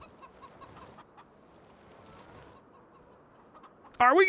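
Chickens cluck softly and repeatedly on a farm in Farming Simulator 25, low ambient farm noise carrying them, before a voice cuts in loudly near the end.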